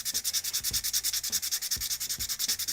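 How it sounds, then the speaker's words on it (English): A nail file rasps back and forth across a plastic model chest part, a close, even rhythm of about eight to nine scratchy sanding strokes per second with no talking. "sanding down this chest part so I can kind of"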